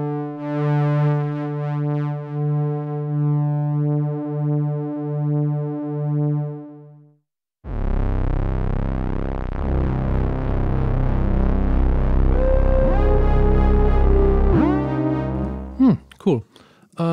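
Behringer 2-XM synthesizer playing a pulsing, wobbling harmonic drone, then, after a brief gap, a dense buzzing sequence with gliding portamento pitch slides and sweeping filter changes. Loud, steady and alone.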